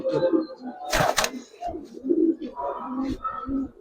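Giribaz coloring pigeons coo in low, throaty repeated calls close by, with a brief flutter or knock partway through and soft background murmur.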